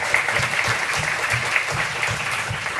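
An audience applauds steadily, a dense patter of many hands clapping together at an even level throughout.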